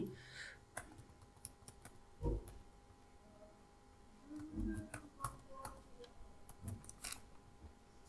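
Name details being typed on a computer keyboard, with soft irregular key clicks in short runs and a few louder taps, close and quiet.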